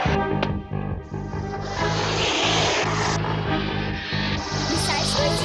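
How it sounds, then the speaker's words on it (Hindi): A cartoon missile flies toward the characters with a loud, continuous droning roar like an engine, holding steady for several seconds with slight swells and no speech over it. "मिसाइल इसी तरफ आ रही है।"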